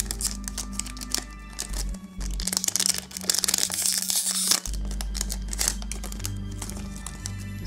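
A Yu-Gi-Oh booster pack wrapper from the Rivales del Faraón duelist set is torn and crinkled open, a close, steady stretch of foil crackling and rustling with a brief quieter gap partway through, alone with no talk.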